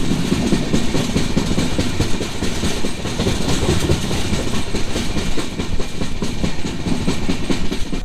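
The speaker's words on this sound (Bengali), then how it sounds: "আমাদের ট্রেন ছেড়ে দিল শিয়ালদা স্টেশন থেকে" A passenger train running just after leaving Sealdah station gives a loud, continuous rumble with a steady clickety-clack of wheels on the rails, heard close from inside with no voices.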